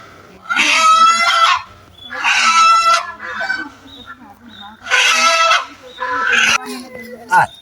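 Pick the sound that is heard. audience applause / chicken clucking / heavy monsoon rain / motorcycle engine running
chicken clucking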